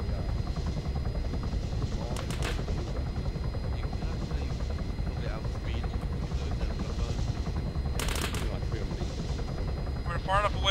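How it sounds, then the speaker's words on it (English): Aircraft engine in the ArmA 3 video game, a loud continuous rotor-like drone filling the scene, with short bursts of gunfire and people talking over it. "There's a plane following you."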